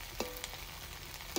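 Duck meat fries with spices and oil in a wok, a steady crackling sizzle throughout with a few sharper stirring clatters at the start and end, no voices.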